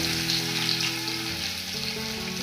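Six cloves of crushed garlic frying in hot oil, giving a loud, continuous close-up sizzle that holds steady throughout without any voices.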